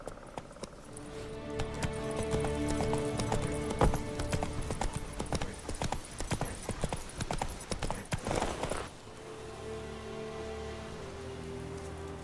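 Horse hooves clip-clop at a gallop in The Witcher 3, a steady rapid rhythm over rain falling on the ground, loud and close, fading to lighter rain near the end.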